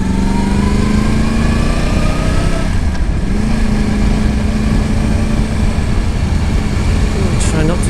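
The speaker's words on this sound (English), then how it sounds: "I'll be using my rear brake and also the engine braking to slow down my bike" Yamaha YZF R1 motorcycle engine braking, a steady loud engine drone with a falling pitch that dips near the middle and then holds, with wind noise throughout.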